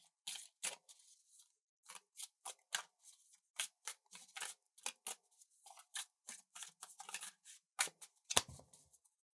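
A deck of tarot cards is shuffled and cut by hand, giving a quick series of crisp, close, irregular card snaps and riffles in short bursts separated by brief pauses, with no talk.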